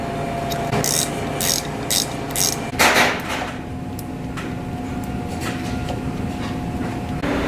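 Stainless steel bolts being tightened onto the auger fork of an ice machine with a ratchet, giving short bursts of close, crisp clicking separated by pauses, over a low steady machine hum.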